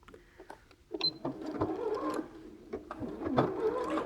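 A sewing machine joins quilt block pieces for an Aubretia block in short, uneven bursts of stitching mixed with small mechanical clicks, heard close by.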